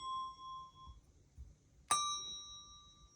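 A small Montessori tone bell is struck once during a grading lesson, ringing with a clear, sustained metallic tone. Before the strike, a quieter bell tone can be heard fading away.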